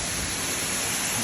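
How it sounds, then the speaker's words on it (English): Water pours over the waterfall at Jagak as a steady, even rushing hiss, moderately loud and continuous, with no voices. "Finally made it to the waterfall."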